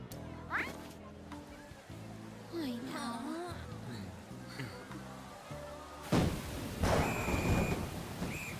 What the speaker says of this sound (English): It was going to rain on us.